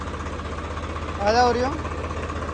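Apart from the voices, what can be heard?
tractor engine idling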